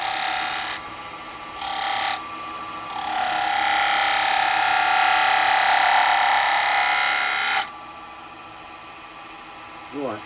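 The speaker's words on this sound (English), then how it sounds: "Let me use a spindle gouge first to get this." A spindle gouge cuts a wooden sideplate spinning on a lathe, making a steady loud hiss and whine in several passes, with brief pauses between cuts and a longer continuous stretch in the middle.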